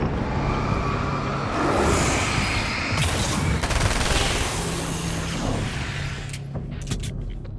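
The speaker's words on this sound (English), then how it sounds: "AA-12. Classic gun." An AA-12 shotgun fires in rapid automatic bursts in Alan Wake's American Nightmare, loud dense booming blasts blending into a continuous roar of game action before tapering off.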